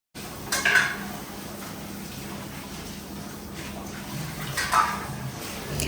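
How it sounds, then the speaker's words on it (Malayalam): Dishes and pots being washed by hand in a home kitchen, with a steady wash of running water and a few sharp clinks of metal vessels knocking together early on and again near the end. "പാത്രങ്ങളൊക്കെ ഒന്ന് കഴുകിയിട്ട് എടുക്കാമെന്ന് വിചാരിച്ചു"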